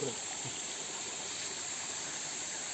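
A forest stream flows steadily in the distance behind a jungle, a faint, continuous watery hiss with no breaks.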